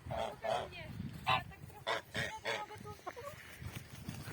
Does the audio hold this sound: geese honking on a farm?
yes